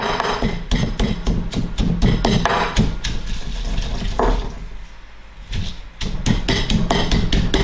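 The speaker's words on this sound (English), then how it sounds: "Then start pounding and grinding the chilies." Chilies and salt pounded and ground in a mortar for authentic Thai red curry paste, with loud, regular thuds repeating throughout and a short lull partway through.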